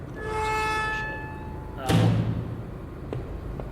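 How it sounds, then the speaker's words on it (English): In the 2012 video game Home, a hollow metallic bang rings out about halfway through, following a sustained tonal chime-like drone, and a fainter knock comes after it, all set in an echoing station-like ambience. "Suddenly it sounds like I'm in a train station. Complete with somebody banging some metal."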